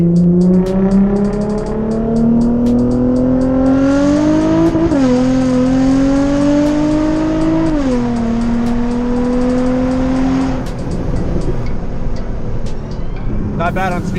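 A 2004 Infiniti G35 accelerates hard during a performance test, its engine note climbing steadily through several gear changes with brief dips between shifts, loud and close, then easing off toward the end.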